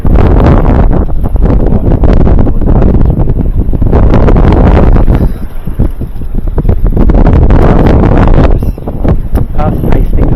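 Strong, gusty wind roars across the microphone aboard a sailboat at sea off Hastings, heavy buffeting swelling and easing with brief lulls, loud and continuous.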